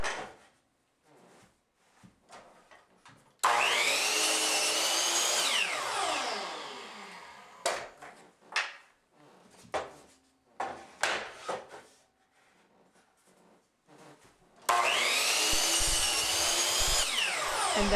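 A miter saw makes two separate 23-degree cuts through a scrap of baseboard. Each cut is a loud, close whine as the blade spins up, bites through the wood and winds down, with quieter handling clatter in the pause between them.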